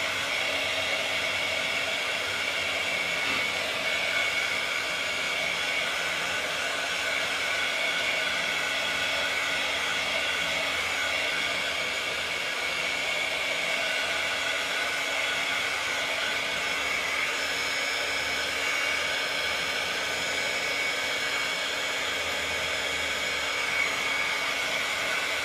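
A hair dryer runs steadily and close up for the whole stretch, a loud, unbroken airy roar as it dries paint on a scratched bitumen patina craft piece.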